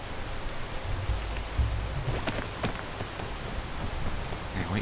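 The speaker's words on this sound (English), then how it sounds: "Okay, wait for the rain." Steady rain falls in the video game PEAK, a dense hiss of drops with a low rumble swelling midway, continuous and fairly loud with no voices.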